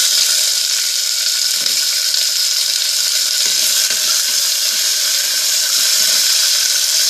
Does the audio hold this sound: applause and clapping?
no